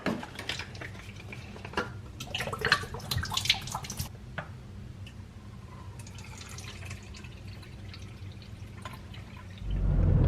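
Water drips and trickles in short splashes, then a fuller, steady pour starts near the end, close and fairly loud.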